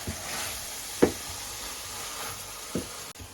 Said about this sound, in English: let's stir this a bit, make sure it doesn't stick to the bottom